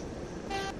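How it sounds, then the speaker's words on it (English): A short train horn blast in a railway simulator game set on the West Somerset Railway near Minehead, a brief tonal toot rising over low engine rumble near the end of the moment. "Sounds a horn."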